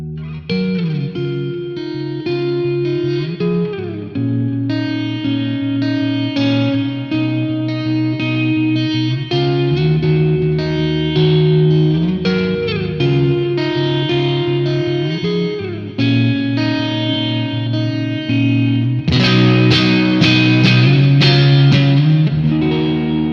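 Electric guitar through a BT MkV pedal on its plate reverb setting, a long run of chords and notes washed in heavy effects and lush reverb, swelling brighter toward the end, loud and alone with no voice.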